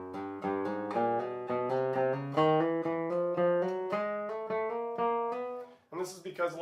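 Guitar slurs played as a steady stream of rapid plucked and hammered notes with a slightly uneven hammer-on, close and clear, and a voice begins speaking at the end.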